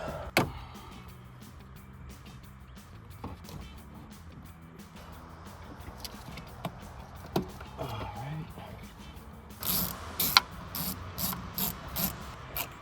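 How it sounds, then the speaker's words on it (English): Hose clamps being tightened on the throttle body and cold air intake tube of a Silverado 1500, quiet scattered ratcheting clicks and metallic ticks, with a faster run of clicks near the end. "Tighten up the clamps on the throttle body, down on the actual air intake tube"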